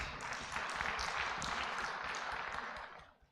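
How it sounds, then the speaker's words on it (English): A conference audience at a national content conference applauds a speaker, giving dense, even clapping that holds steady for a few seconds before thinning out at the end. "Let's give him a big round of applause."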